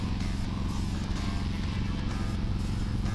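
A Harley-Davidson motorcycle with a Stage 1 tune and new air cleaners cruising at about 30 mph, its engine giving a steady, loud low throb with road and wind noise throughout.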